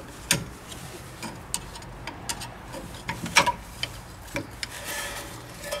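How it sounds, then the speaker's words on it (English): A big screwdriver prying out the worn rear brake pads of a Mazda 5, with irregular close metallic clicks, scrapes and taps over quiet background and no talking. "we're just going to use a big screwdriver just to persuade"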